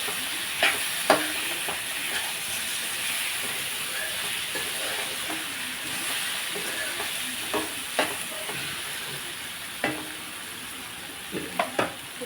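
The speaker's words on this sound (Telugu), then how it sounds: "గ్లాస్ వాటర్ వేస్తున్నామండి ఇదిగోండి వాటర్ వేస్తున్నాను ఒక గ్లాస్ అండి" Curry with moong dal fritters and eggs simmering in a pan as a glass of water goes in and the pot gets stirred, with a continuous sizzle and hiss broken by several clicks and scrapes of a spoon against the pan.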